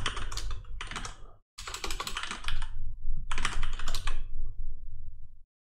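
Fingers typing a password on a computer keyboard, quick bursts of clicking keys separated by short silent pauses, close and clear.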